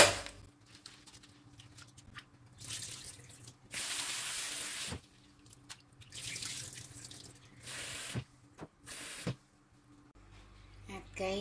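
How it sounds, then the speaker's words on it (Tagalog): Glutinous rice is washed under a running tap, with several separate bursts of close rushing, splashing water. Each lasts about a second and is set apart by quieter gaps. "hugasan natin ang ating malagkit"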